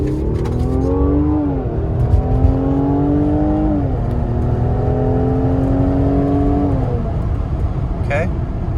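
A Eurocharged-tuned Mercedes-AMG GLC 43 accelerates hard in Comfort mode, its engine droning loudly and climbing through rising gears with shift dips, heard from inside the cabin at close range.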